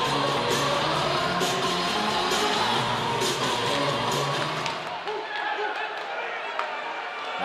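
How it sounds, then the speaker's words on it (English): Hockey crowd at a Binghamton Black Bears home game against the Danbury Hat Tricks roars and cheers after a goal, a dense sustained wall of noise with scattered claps and shouts that thins out near the end. "The crowd into it early here in Binghamton"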